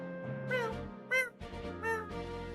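A voice imitates a cat's meow several times in short drawn-out calls, fairly quiet and close, with soft background sound between them.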